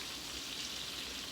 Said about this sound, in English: My butter over here is browning and looking good.